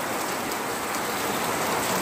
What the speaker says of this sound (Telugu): హాయ్ ఫ్రెండ్స్, మా ఊరిలో ఫుల్ వాన